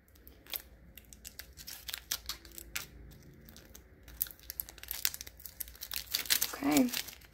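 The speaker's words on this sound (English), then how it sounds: "So now we're ready to peel from the corner again and down." Vinyl decal transfer tape is peeled off a Dollar Tree coffee mug, giving faint crinkling and tearing rustles with small scratchy bursts that grow busier toward the end, heard alone at low level.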